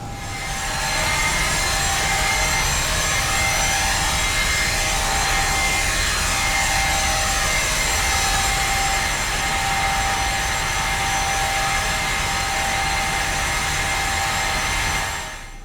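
A Falcon 50 jet engine spools up in the Prepar3D flight simulator, a loud steady turbine whine with rising tonal layers and broadband roar that holds for about fifteen seconds, with no talking.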